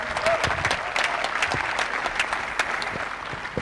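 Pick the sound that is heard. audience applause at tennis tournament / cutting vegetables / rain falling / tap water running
audience applause at tennis tournament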